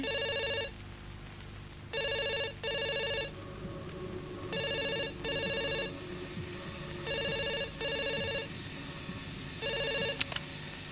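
A telephone rings in a Malayalam movie scene, a steady electronic ring repeating in double bursts with short pauses between them, loud and close with no voices over it.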